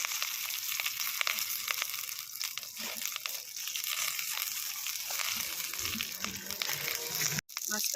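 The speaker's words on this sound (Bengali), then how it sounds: "এই যে কড়াইতে আমি একটু তেল দিয়ে রেখেছিলাম, এবার মাছটাকে বসাবো" Mourala fish wrapped in banana leaf fry gently in a little oil in a wok over low heat, a soft, steady sizzle with scattered crackles and pops, faint and close.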